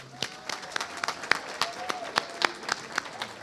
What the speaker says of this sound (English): let's give all our award recipients one more round of applause